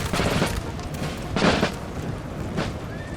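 Volleys of musket fire from Austrian Grenadiers in a Napoleonic battle game, with three rolling bursts over a constant backdrop of distant battlefield noise.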